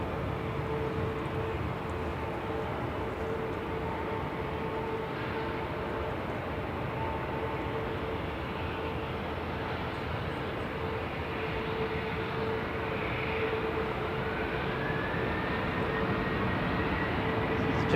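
Jet airliner JZHH departing Manchester Airport for Dalaman, a steady distant engine roar with a whining tone, constant and moderately loud throughout without talk.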